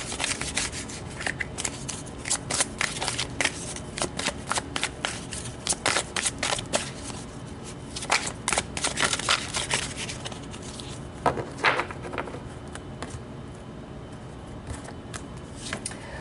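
Romance angel oracle cards being shuffled and pulled from the deck, with a steady run of close, crisp card riffles and flicks, dry papery snaps, and a few louder slaps, continuing throughout with no talking.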